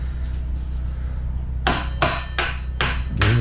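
Five sharp metallic hammer taps drive the axle into a 2001 Honda Shadow Spirit 1100 motorcycle wheel, spaced roughly evenly and close by, over a low steady background hum.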